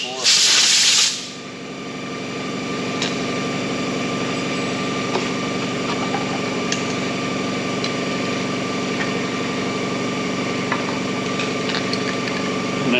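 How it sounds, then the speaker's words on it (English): Blast of compressed air from a handheld blowgun, a loud hissing burst lasting about a second, then a steady engine idle hum carries on underneath during winter equipment maintenance. "I'll take my blowgun and I'll keep hitting it in."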